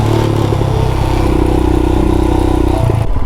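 A Royal Enfield Himalayan motorcycle pulls away in first gear, its engine droning loud and close with a steady mid-pitched tone that rises slightly before cutting off abruptly near the end, mechanical clatter underneath.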